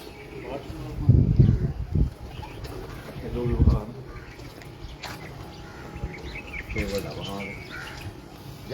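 Breeder pigeons coo in soft, low bursts near the start and again around the middle, with fainter chirps scattered through; someone talks nearby.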